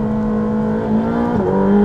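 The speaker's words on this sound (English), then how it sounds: "you can just whack the throttle open without fear of the thing turning round" A Ferrari 458 Speciale's engine revs hard as the throttle is opened, a loud, close, steady snarl whose pitch climbs and then dips briefly at a shift before rising again, with no talking.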